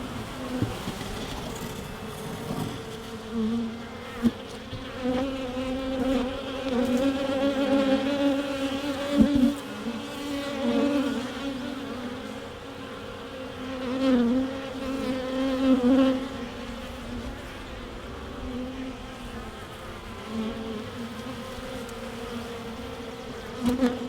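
Honey bees buzz at an open hive, a dense continuous droning hum that swells and fades slightly throughout, with no voices.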